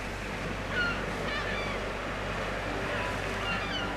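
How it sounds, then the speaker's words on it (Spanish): Steady wash of sea waves with faint gull cries calling intermittently in the distance, on Isla de los Estados. "escuchando el ruido del mar, un montón de gaviotas que están dando vuelta"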